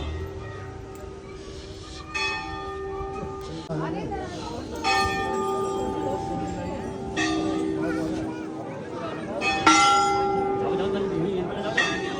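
Bells at the Golu Devta temple near Nainital, where devotees hang bells as offerings, are struck about six times at irregular intervals. Each ring is bright and close and sustains until the next, with voices talking underneath.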